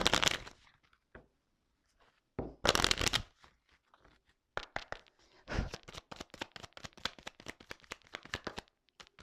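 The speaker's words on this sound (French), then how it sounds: "je vais prendre quelques cartes, juste 3 cartes" Tarot cards are shuffled close by in several bursts, first a riffle and brief flurries, then a long run of rapid, crisp card snaps with short pauses between them, and no voices.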